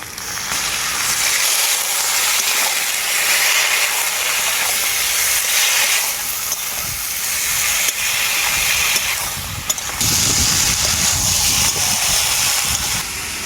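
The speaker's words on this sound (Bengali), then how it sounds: "মশলাটাকে আমি সবজির সাথে খুব ভালো করে কষিয়ে নিয়েছি" Spice paste and vegetables sizzle steadily in a pan for neem shukto, a steady close hiss that swells and eases over several seconds with no voices.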